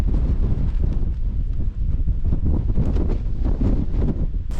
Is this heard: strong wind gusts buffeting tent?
yes